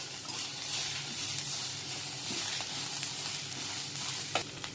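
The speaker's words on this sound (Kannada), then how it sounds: "ಟೊಮೆಟೊ ಹಾಕೊಂಡು ಅದನ್ನು ಕೂಡ ಚೆನ್ನಾಗಿ ಫ್ರೈ ಮಾಡ್ಕೋಬೇಕು" Tomatoes fry with mutton pieces in a pan, giving a continuous dense sizzle close by with faint occasional stirring clicks, no talking.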